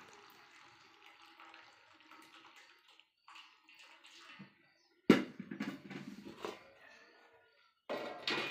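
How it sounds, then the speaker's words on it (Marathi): Intermittent splashing and trickling of hot water squeezed out by hand from boiled ambadi leaves, in short bursts with pauses between, fairly close and quiet. "आता पाणी पिळून घेते, गरम पाणी सगळं त्यातलं निचरून घ्यायचं पाणी गरम."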